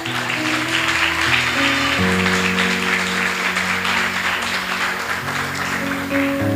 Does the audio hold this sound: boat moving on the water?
no